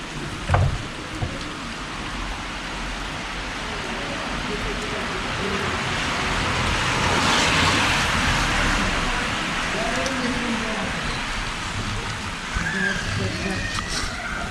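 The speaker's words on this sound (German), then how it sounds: "Ja, das regnet richtig." Heavy rain pouring outdoors as a steady, dense hiss that swells toward the middle and continues unbroken, with a brief knock near the start.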